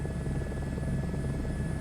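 An H125 helicopter in Microsoft Flight Simulator 2024 on a VFR flight over Sydney gives a continuous, loud rotor-and-turbine drone with a thin, steady whine riding on top and no talking.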